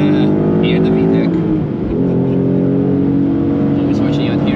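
Rear-wheel-drive Ford Mustang lapping the Nürburgring in tricky conditions, its engine droning loud and close with rising and falling revs while people talk over it inside the car.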